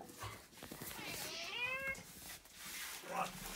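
A house cat meows twice, first a drawn-out meow near the middle and then a shorter one near the end, over faint background noise and rustling.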